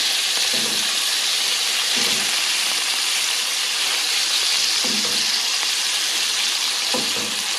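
Bacon sizzles in a pan in a home kitchen, a steady bright hiss of frying fat with occasional soft pops and stirring thumps, close and continuous with no talk.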